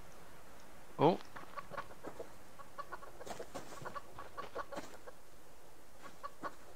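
A chicken in the survival video game Subsistence, standing near a wolf, gives one loud, close cluck at the start, then a string of softer, scattered clucks and small chirps over faint background ambience.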